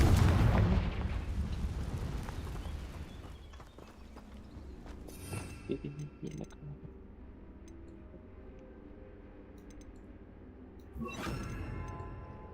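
The Confringo blast spell bursts in Hogwarts Legacy as a loud explosive boom that rolls away into a long rumbling decay, followed by scattered crackles and a sharper burst near the end, with no speech.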